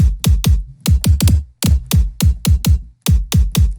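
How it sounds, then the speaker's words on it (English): Punchy electronic kick drum hits, heavily processed with deep low-end thump and sharp click, repeating in a steady pattern on their own. "here's the kick by itself"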